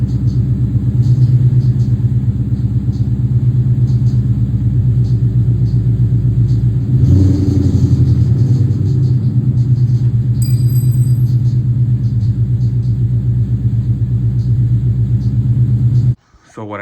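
A car engine with low oil pressure, a damaged motor, rumbles steadily at close range, its revs rising and falling slightly throughout, with a voice talking over it before a sudden cutoff near the end.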